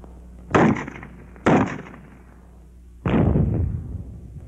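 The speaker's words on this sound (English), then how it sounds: "It explodes as soon as it hits hard enough ground." Three sharp blasts from a WWII fragmentation grenade with an impact fuse, each a loud, abrupt boom with a decaying rumble; the first two come close together and the third follows after a pause.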